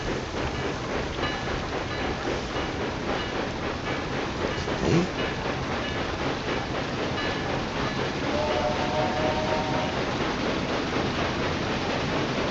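A train rolling along rails in the Railway Empire 2 video game, a steady, continuous rumble and clatter of wheels that fills the whole stretch, with a brief mechanical squeal partway through and a single spoken word over it.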